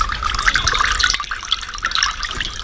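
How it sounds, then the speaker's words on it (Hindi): A tube well borewell pump gushes water in a steady, splashing stream, loud and close, with a brief dip partway through before the flow resumes. "जी जनाब, हमारा ट्यूबवेल स्टार्ट हो चुका है, ये देखें जनाब, हमारा बोर इस टाइम स्टार्ट है"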